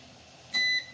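A single steady electronic timer beep sounds halfway through, close and clear over a quiet background hum, set while chicken curry simmers on an LPG stove.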